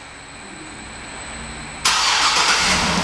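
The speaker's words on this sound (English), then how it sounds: "And the car starts right up." A 2009 Cadillac Escalade ESV AWD, started by remote start, fires up abruptly with a loud burst and settles into a steady, close idle after a quiet background hum.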